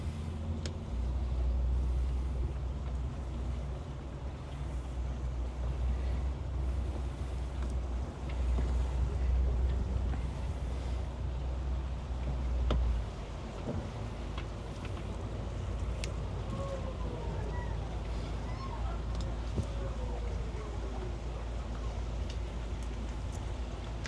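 A Sea Ray 270 with a single outboard motor maneuvering near a dock, a low steady engine rumble that eases off partway through, with wind noise and some faint distant sounds over it.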